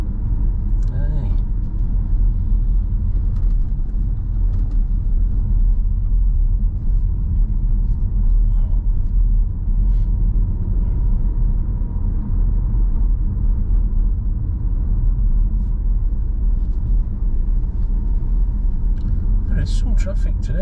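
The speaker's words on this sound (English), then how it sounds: "Some traffic today, I can't believe it." Road traffic on the streets of Blackpool, heard from inside a car on a sunny day as a continuous low engine and road rumble with occasional passing vehicles.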